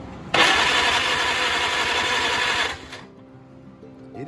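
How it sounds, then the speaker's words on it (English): A 1949 Farmall Cub tractor engine cranking over on the starter during a compression check, a loud steady whirring drone for about two and a half seconds before cutting off to quiet. "you can listen to an engine and hear some things"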